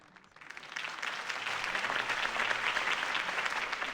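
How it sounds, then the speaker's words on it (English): A crowd applauds after a campaign speech in the Batman Telltale Series video game, the clapping swelling from a quiet start into a dense, sustained roar of many hands. "If only Mr. Wayne, my campaign's largest backer, could have heard that applause"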